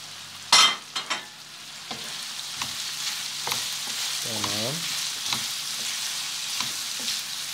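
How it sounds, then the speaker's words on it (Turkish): Red and green village peppers dropped into a pan with sautéed onions, a few loud clattering drops followed by steady close sizzling and frying, with the brief scrape of stirring. "Şimdi kırmızı ve yeşil köy biberlerimizi koyalım."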